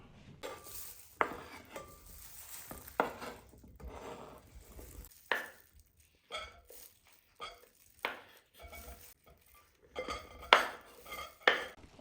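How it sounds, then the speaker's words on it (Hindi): Cut exotic fruits, including dragon fruit, kiwi, apple and avocado, go into a bowl for fruit chaat. Soft, scattered clinks, taps and knocks of food and utensils against the bowl come at uneven intervals, close and fairly quiet. "अब इसके अंदर जितने भी एग्जॉटिक फ्रूट्स हैं ना वो मैं इसके अंदर डाल रहा हूँ"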